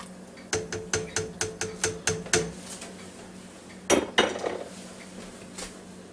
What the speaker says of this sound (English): Now we'll give it a little stir.